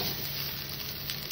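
Onions and potatoes frying in a little oil in a home kitchen, a low, steady sizzle that runs quietly throughout, with a soft clatter near the end.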